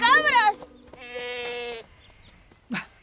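Cartoon goats bleat loudly in an animated children's park scene, a wavering bleat followed by a long steady one and a short final call, with talk briefly in between.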